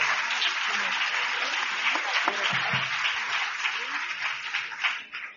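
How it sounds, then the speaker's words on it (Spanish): An audience applauds warmly for a music group at a church prayer gathering, a dense, steady clapping that holds for several seconds before tapering off. "Un aplauso para ellos."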